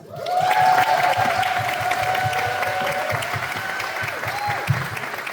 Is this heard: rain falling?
no